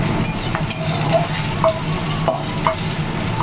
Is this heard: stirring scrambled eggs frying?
yes